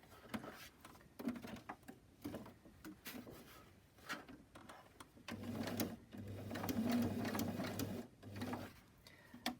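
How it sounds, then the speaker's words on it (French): Sewing machine stitching a second seam about 5 mm in on a fabric face mask, with steady mechanical whirring in short runs broken by brief stops and handling noises. "Et je viens faire ma deuxième piqûre à environ 5 mm."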